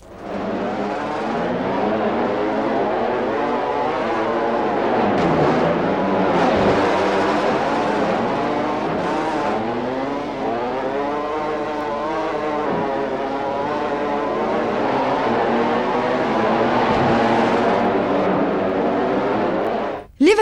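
Fast motorcycle racing game on the original PlayStation from Electronic Arts, with loud, continuous engine whine that rises and falls through gear changes, steady and dense for the whole stretch with no talking.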